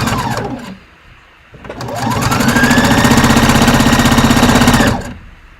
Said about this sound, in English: I sew closer to the inner edge of the hem versus the outer edge.